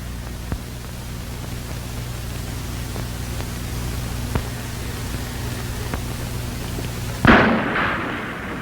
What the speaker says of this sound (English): Sounds like an explosion.